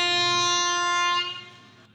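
Indian deluxe tourist train arriving at Chennai Tambaram station, sounding a sustained multi-tone horn that holds loudly for over a second, then cuts off and fades into station ambience.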